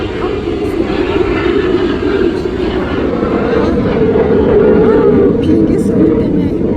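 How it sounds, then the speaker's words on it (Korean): An airplane drones loudly overhead at a summer flower nursery, a steady, continuous roar filling the whole stretch with a faint voice speaking beneath it. "비행기 소리 때문에"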